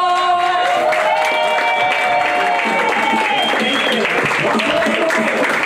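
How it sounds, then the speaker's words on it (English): Studio or stage audience applauding and cheering for a comedian at the Sistah Talk Celebration, a dense, loud wall of clapping with whoops and shouted voices mixed in, sustained steadily throughout. "Thank you for that applause."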